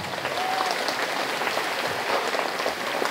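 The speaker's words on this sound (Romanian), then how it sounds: "Dați-le, vă rog, aplauze!" An audience claps for high school students on stage at a cultural and artistic event for education workers, sustained, dense applause with a steady rain-like patter and no voices over it.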